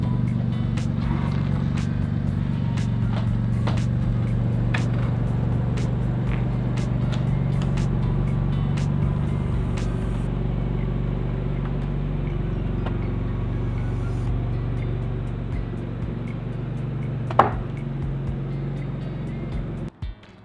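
A stock BMW M3 Competition idles with a low, steady engine rumble close by, continuous and even throughout with a few faint clicks near the end.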